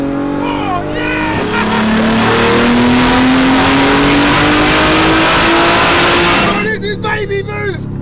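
An 1100 bhp BMW engine roars on a dyno, a loud sustained rev climbing steadily in pitch for several seconds before cutting off to a rough idle, very close and dominating.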